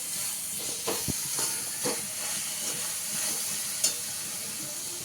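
Gravy simmering in a pan after salt and turmeric are stirred in, a steady close hiss and sizzle with a few soft bubbling pops and a spoon tap or two.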